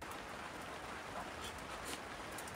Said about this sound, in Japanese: 雨の音すごいね